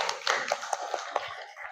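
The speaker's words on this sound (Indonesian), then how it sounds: "tepuk tangan dong buat Sabrina" Classmates clap for a student in a classroom, a short burst of scattered, uneven hand claps lasting under two seconds.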